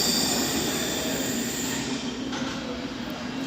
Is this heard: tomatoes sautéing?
no